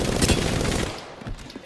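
Rapid automatic gunfire in the video game Apex Legends, a dense burst of close shots for most of a second, then tailing off into a few scattered softer reports.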